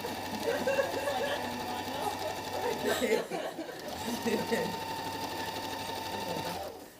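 A sewing machine stitching a jacket undersleeve, a close steady whirring run that pauses briefly midway and then resumes, with a person talking over it.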